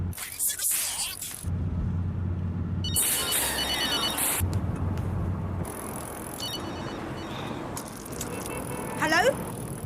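A telephone rings in a hospital drama scene, repeated bursts of ringing alternating with quieter gaps over a rattling, busy background.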